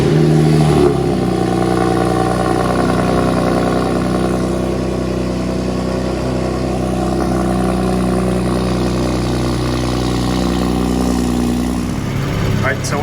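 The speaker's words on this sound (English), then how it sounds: "All right, so we're letting the car warm up" A BMW 340i with a B58 engine warms up, its low steady drone holding loud and close throughout with little change in pitch, while voices seem to talk faintly beneath it.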